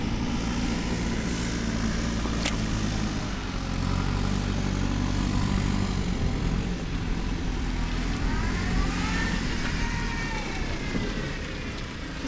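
A JCB excavator drives away from a site where an old house was demolished, its low engine rumble steady and continuous throughout, with a broad mechanical roar that swells slightly in the middle before easing off.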